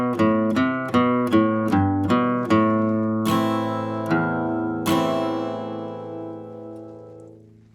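Acoustic guitar picking measures 7 and 8 of the fiddle tune Cold Frosty Morning, a run of evenly spaced plucked notes followed by a few ringing chords that slowly fade, close and alone.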